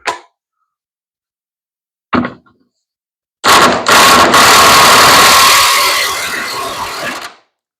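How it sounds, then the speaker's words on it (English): Air impact wrench working on seized bolts of a 1993 Jeep Wrangler barn find: two short bursts, then a loud, sustained rattling hammer lasting about four seconds before cutting off. "I've got my trusty impact wrench"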